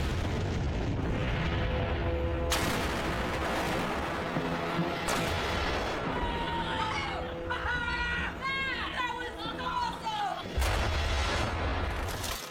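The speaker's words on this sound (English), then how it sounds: "that's the biggest explosion we've ever done" A huge detonation of 5,000 pounds of ANFO explosive sends up a loud, sustained broadband roar and rumble that rolls on for several seconds, with people's voices and excited chatter heard over and after the blast.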